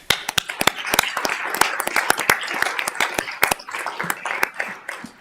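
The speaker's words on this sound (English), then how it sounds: "I think we'd like to give the fire department a round of applause." Applause for a city fire department at a commission meeting: a loud, close, uneven run of individual hand claps from a small group, steady throughout with sharp irregular slaps.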